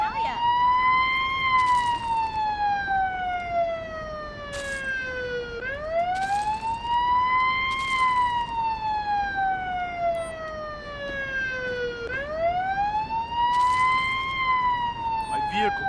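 Emergency siren wailing in the Police Simulator: Patrol Officers video game, rising and falling in long repeating sweeps about every six seconds, loud and steady throughout.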